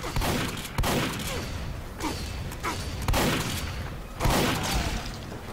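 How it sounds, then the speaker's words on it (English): Shotguns blast back and forth in a Team Fortress 2 firefight: five heavy booms about a second apart, each trailing off under constant game noise, with no talking. "Shotgun fight. We'll make this a shotgun fight."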